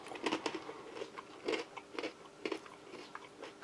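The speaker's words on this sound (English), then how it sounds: "pretzel, nice and crunchy still" A plain MRE pretzel is bitten and chewed up close, quiet, with a series of sharp crunches repeating irregularly about every half second.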